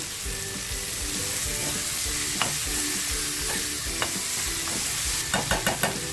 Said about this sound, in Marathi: आता जो टॅमेटो घेतला होता ना तो टॅमॅटो टाकते